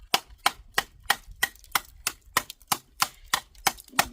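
Rapid, sharp knife chops from a dbad Hognose knife striking a cutting board, about a dozen crisp evenly spaced strikes in quick rhythm, close and clear with no talk.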